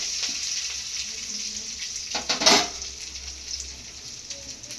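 Ingredients for mint and tender-coconut chutney sizzle in a pan as they are stirred, with a soft steady frying hiss and a short louder scrape and splash in the middle.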